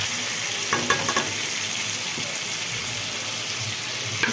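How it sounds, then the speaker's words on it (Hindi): Ginger and garlic fry in a pan with a constant, even sizzle, broken by a few light stirring taps early on, and no talking. "अदरक लहसुन डाल के मैं फ्राई करेंगे।"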